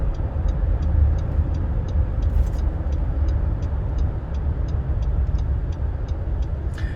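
A 2021 Nissan Frontier Midnight pickup with a 310 hp engine turns through a U-turn, its steady low cabin road and engine rumble running throughout under an evenly spaced, quick ticking of the turn signal.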